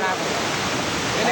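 Roaring rush of the Tumpak Sewu waterfall in Lumajang, East Java, a dense continuous wash of falling water, loud and steady throughout.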